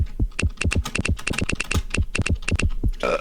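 Quick, crisp computer keyboard typing up close, a dense run of sharp keystroke clicks in an uneven rhythm over about three seconds, ending in a slightly louder rattle.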